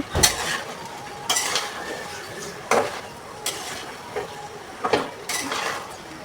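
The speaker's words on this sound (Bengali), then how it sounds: "এখানে আমি বরবটি আর আলু দিয়ে ভালোভাবে কষিয়ে নিব" Yardlong beans and potatoes are stirred in a pan, with intermittent scraping and clattering of a utensil against the metal every second or so over a faint background sizzle.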